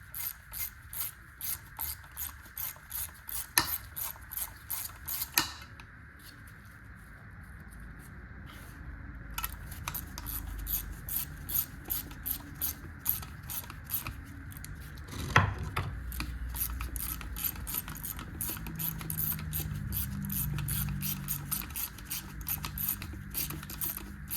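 Ratchet wrench clicking in quick repeated bursts while bolts are removed from a 1982 Mercury Capri 5.0 that sat in a junkyard, close and dry, with brief pauses between runs of clicks.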